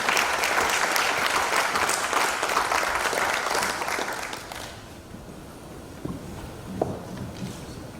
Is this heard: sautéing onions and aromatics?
no